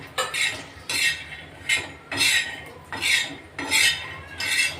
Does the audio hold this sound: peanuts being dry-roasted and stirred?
yes